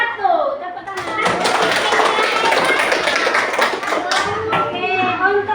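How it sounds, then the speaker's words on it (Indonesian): Classroom of fifth-grade primary school children clapping their hands together in a lively, dense burst lasting several seconds, with children's voices chattering over the applause. "Tepuk tangan"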